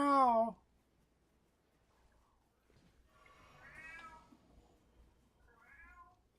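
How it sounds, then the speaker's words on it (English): A close, loud cat meow opens, followed after a pause by two softer, more distant meows with faint background murmur. Heard while a game is being played. "Hear the cat going? Meow."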